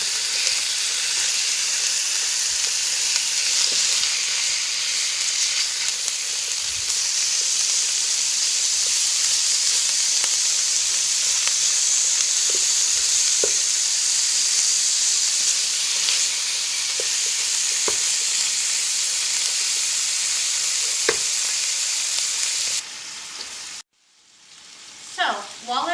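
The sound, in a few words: ground meat and chopped onion frying in a pan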